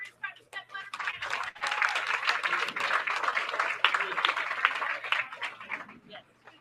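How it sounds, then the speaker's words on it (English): Audience applause at a junior bowling tournament, a crowd clapping loudly and steadily for several seconds after a short lead-in, with voices and cheering mixed in, tapering near the end. "let's give these kids a big round of applause"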